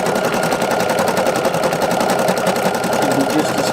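An embroidery machine stitches out a design in a steady, loud, rapid mechanical chatter that runs evenly throughout without pause.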